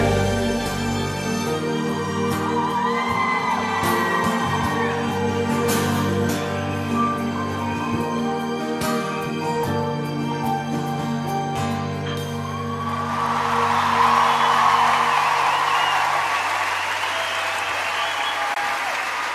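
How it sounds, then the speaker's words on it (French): A concert audience at a French pop show bursts into sustained, dense applause after the music fades, the clapping swelling loudly and continuing alone to the end. "Applaudissements pour"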